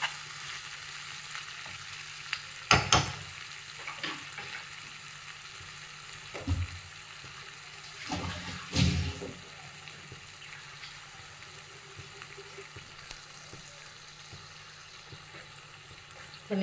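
Keema mutton masala sizzles quietly as it is sautéed in a pan, a soft steady frying hiss broken by a few louder stirring scrapes and clinks, with no talking.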